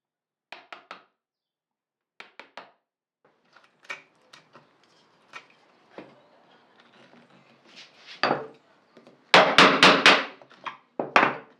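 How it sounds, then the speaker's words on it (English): A chisel chops out waste between dovetail tails in wood in sharp taps, first light and spaced, then a quick cluster of harder, louder strikes near the end. "I'm using a chisel to remove the waste between the tails instead of sawing them out"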